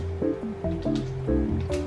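Thick cheesecake batter poured into a lined baking pan, with soft wet glugs and squishy plops arriving in uneven bursts, close and fairly quiet, with no voices.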